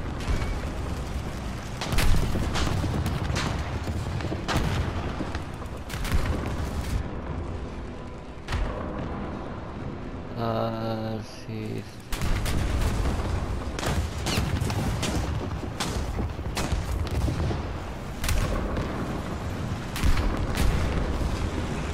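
British tank cannon fire and battle noise from War Thunder tank combat, with heavy booms and sharp impacts over a constant engine rumble, and a brief mechanical whine partway through.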